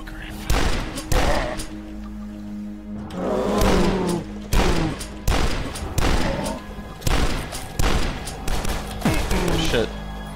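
Shotgun blasts in the first-person shooter video game Dusk boom repeatedly in loud, evenly spaced volleys, each with a sharp crack and decaying rumble, with a voice talking between shots.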